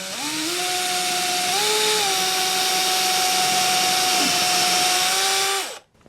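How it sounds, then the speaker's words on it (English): A power drill bores a pilot hole into a plexiglass acrylic sheet, its motor whine steady and close for about five and a half seconds, shifting slightly in pitch mid-cut before spinning down and stopping. "And drill the hole."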